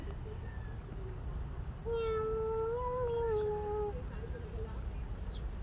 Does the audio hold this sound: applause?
no